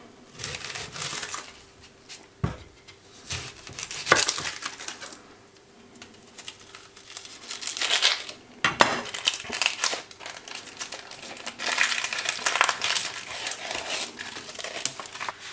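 Onions being coarsely chopped by hand for a black-beer goulash: close, irregular crunchy cuts and crinkly crushing sounds, some sharp knife hits, with no talk.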